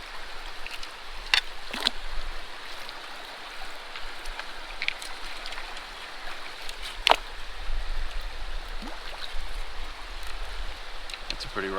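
A gold sluice with a dream mat sits in the flowing Kern River, making a continuous close wash of water with scattered sharp knocks and trickles throughout.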